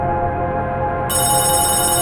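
A phone ringtone sounds loud and steady, its tones sustained and growing brighter partway through.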